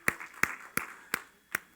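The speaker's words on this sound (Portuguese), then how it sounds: "Dá uma salva de palmas aos homens" A church congregation at an Easter service claps for the men, five sharp separate claps at a steady pace, fairly close and alone with no talk.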